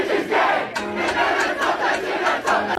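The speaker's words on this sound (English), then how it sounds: "the fact that everyone knows the words so much to this song, like that they would scream it" A packed concert crowd sings and screams along with a well-known song. The voices form a loud, dense, sustained roar that swells rhythmically with the chant and carries on through the whole stretch.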